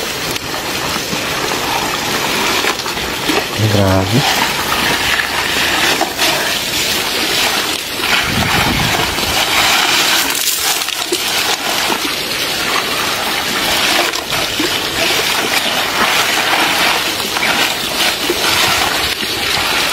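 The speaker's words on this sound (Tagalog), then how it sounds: "manguha ng ginto sa tubig, sa ilog" Water sloshes and trickles continuously as a man pans for gold in a river, with splashing and swirling close by, and a brief spoken word partway through.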